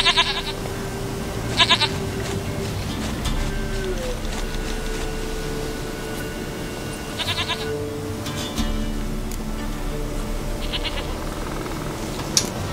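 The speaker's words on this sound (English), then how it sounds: "其实养个山羊也挺好玩的。" Goat bleats from The Witcher 3 video game come in several short wavering bursts spread across the clip, fairly close and clear, over a constant low ambient game soundscape with no talk.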